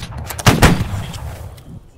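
Gunfire in a multiplayer war video game, a cluster of sharp close shots around the middle with a few lighter cracks before and after, over a dull background rumble.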